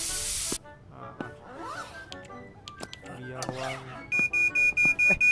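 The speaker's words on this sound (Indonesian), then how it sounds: "Semprot biar wangi." A can of air freshener gives one short, loud spray hiss inside an internet cafe in Internet Cafe Simulator, followed by quieter game clicks and a run of rhythmic electronic beeps.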